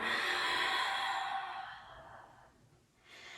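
During a yoga forward fold, a long soft breath out rushes close to the microphone, fading away over about two seconds before a brief quieter breath follows.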